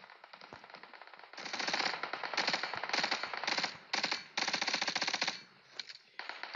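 An MP5K submachine gun in PUBG Mobile fires long rapid bursts into a buggy, a fast, loud, crackling stream of shots broken by brief pauses between strings.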